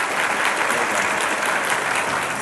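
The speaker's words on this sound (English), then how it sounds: "Clap if you are a fan of Dressrosa." A convention panel audience at Otakon claps in a steady burst of applause, dense and fairly loud, filling the whole moment without any talk over it.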